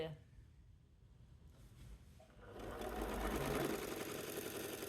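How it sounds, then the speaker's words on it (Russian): A sewing machine stitches a zigzag seam in T-shirt fabric, starting up midway after a quieter lead-in and then running as a steady, close, rapid mechanical whir to the end. "Сейчас я разложила этот шов и прошиваю здесь зигзаг."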